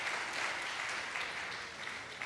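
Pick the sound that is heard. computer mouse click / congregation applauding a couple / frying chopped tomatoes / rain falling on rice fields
congregation applauding a couple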